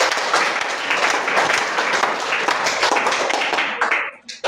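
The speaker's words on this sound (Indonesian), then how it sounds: "Tepuk tangan dulu kalau mampu" A group of trainees claps together in a meeting room, loud and fairly close, the clapping holding steady for about four seconds before trailing off into a few scattered claps.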